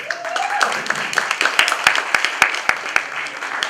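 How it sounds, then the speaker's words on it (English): A crowd applauds an honored guest at an international student event, with scattered sharp claps building into steady clapping from a hall audience for several seconds, with some background murmur. "Please give him a round of applause."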